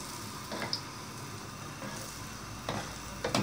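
Kabyle sfenj dough frying in hot oil while it is basted with more hot oil, giving a steady close sizzle with a few louder spattering bursts from the ladled oil.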